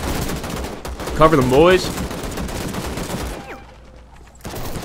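A PKM machine gun rattles in the Call to Arms video game, firing in loud bursts alongside other gunfire in a busy battle, while a voice calls out over the shooting.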